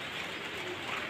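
A Javanese flying pigeon coos softly outdoors in the morning after rain, the call faint and partly buried under a steady broadband background hiss.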